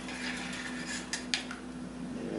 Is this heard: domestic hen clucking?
no